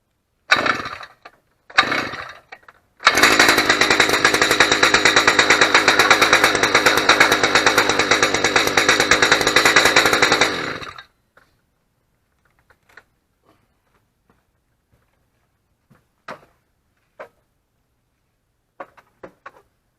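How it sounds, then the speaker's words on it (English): A powered ice auger drills through ice with a loud, steady engine roar for about eight seconds, then cuts off, leaving faint scattered clicks and knocks. "As you saw, it spins at the bottom, drills through the ice."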